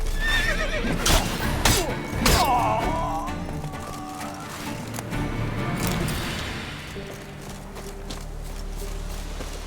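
A horse in The Witcher 3 video game whinnies and clip-clops at a gallop, with loud hoofbeats and a shrill neigh early on that fade into a softer run under ambient game sound.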